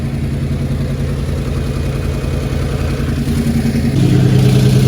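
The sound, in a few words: 1996 Ford F250 truck engine running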